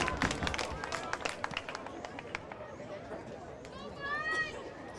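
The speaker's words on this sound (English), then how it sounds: "Crowd here is starting to get a little louder now." Crowd noise at a high school soccer regional game: a busy, distant mix of cheers, shouts and scattered claps swelling somewhat, with a commentator talking over it.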